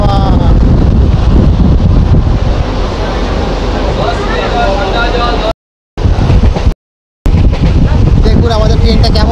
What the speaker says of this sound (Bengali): ও সুন্দর করে হাওয়া